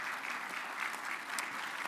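Audience at a business legislative summit keynote applauding corporate sponsor Amazon: a dense, steady round of crowd clapping, even and sustained, heard on its own without speech.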